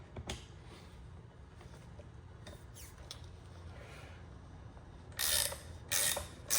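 A ratchet wrench fitted with a 19 millimeter socket is quiet at first against a low background rumble, then gives two or three loud, dense bursts of clicking near the end.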